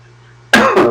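A single loud, close throat clearing with a short cough, coming from an adult with a cold picked up from a sick child, breaking a near-silent moment.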